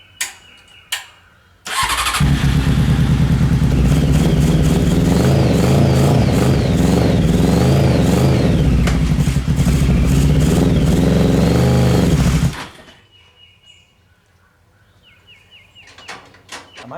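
The engine of a Honda CBR 600 reverse trike starts and revs loudly for about ten seconds, holding a sustained roar with rising and falling pitch, then cuts off into quiet background with birds.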